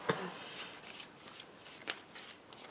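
Trading cards shuffled during a Cardfight!! Vanguard match between Aqua Force and Revengers decks, with repeated soft riffling and snapping bursts at a close, quiet level.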